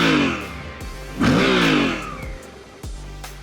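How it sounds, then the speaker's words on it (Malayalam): Suzuki V-Strom 800DE adventure motorcycle revving through its exhaust, close and loud with several rising and falling blips of the throttle, one longer surge in the middle, and no speech. "ഞാൻ ആ എക്സോസ്റ്റ് ഒന്ന് കേൾപ്പിച്ചു തരാം"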